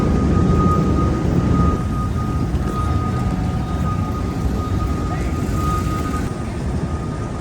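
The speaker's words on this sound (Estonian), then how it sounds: "Ja helikopter tuleb, ma kuulen meile." A helicopter near Brooklyn, New York drones as a loud, steady rotor-and-engine rumble that fills the whole stretch without pause.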